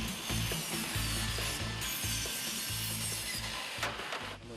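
Wood is being cut with a power tool during a school bus camper conversion. A loud, steady grinding and sawing drone runs close by throughout, with rasping rubbing and no voices.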